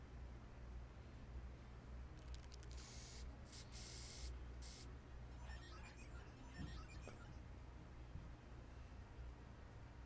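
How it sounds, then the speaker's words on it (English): Spray painting in Final Fantasy XIV: a cluster of sharp hissing aerosol bursts, several in quick succession, stands out clearly over a steady low game hum. "He just spray painted it."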